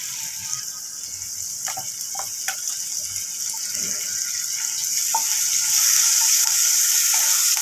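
Finely chopped green chillies fry in hot oil, giving a steady bright sizzle with scattered crackles that builds gradually louder toward the end, with no voices over it.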